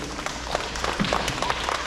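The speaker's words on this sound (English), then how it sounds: "Boys and girls, we don't want to clap till we're all done." Children at an elementary school awards ceremony clap in a scattered, uneven patter of small hands, moderately loud in a room.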